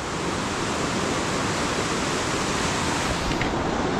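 Rainwater runs beside Garjiya Devi temple after four days of rain, a steady loud broadband rush of flowing water with no breaks, close and unvarying throughout.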